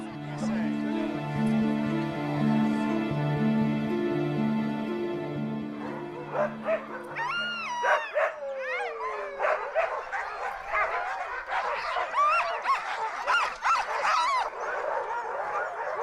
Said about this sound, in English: They're so loud, the dogs are so loud.